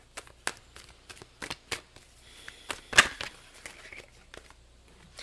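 Tarot cards shuffled by hand close up: quiet, crisp riffling bursts repeating at an irregular rhythm, with one louder snap midway.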